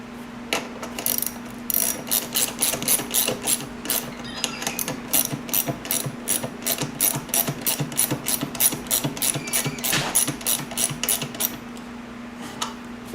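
A ratchet clicks rapidly and repeatedly while a bolt is tightened on a Honda Sabre cafe motorcycle project, a close, even run of sharp ticks over a steady low hum.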